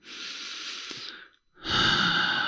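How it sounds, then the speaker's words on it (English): A slow, deep breath close to the microphone: a long airy inhale, a brief silent pause, then a fuller, louder exhale, with no talking. "Take a deep breath"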